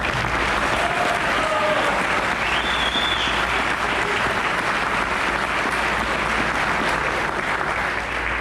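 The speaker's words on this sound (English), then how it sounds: "So let's give him a round of applause" Steady, sustained applause from an audience for the Chief, a full crowd clapping evenly for over eight seconds with a few faint voices and whistles mixed in.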